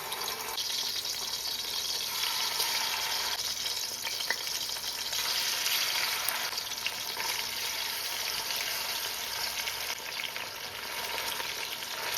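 Chicken pieces for a home-style brown stew frying in a pan, a steady, dense sizzle that runs loud and close throughout with faint scraping stirs now and then, no voices over it.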